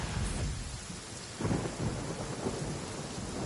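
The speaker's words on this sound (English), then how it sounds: "Came out and it was just fucking thunder." Video game Genshin Impact thunderstorm: a low rumbling roll of thunder over steady rain, with a fresh swell midway, fairly faint and continuous.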